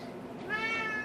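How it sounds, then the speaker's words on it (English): Ivory, a vocal senior cat at an animal shelter, lets out a single drawn-out meow that rises and holds over a faint background hum. "She's a very vocal cat, this Ivory."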